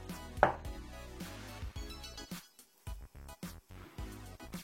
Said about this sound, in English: clean your spring onions and chop them nice and thinly